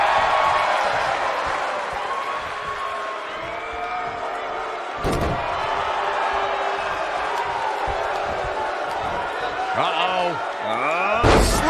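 A wrestler is slammed hard to the mat in WWE 2K19, giving a sharp, loud impact boom over constant crowd noise and a commentator's voice, with another heavy thud near the end.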